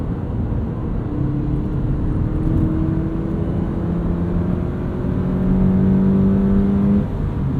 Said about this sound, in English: This is a really fun car to drive on track.